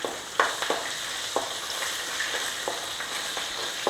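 Onions sautéing with a pinch of salt in a pan for a Kerala theeyal curry: a steady close sizzle broken by a few sharp stirring clicks and scrapes, with no talking.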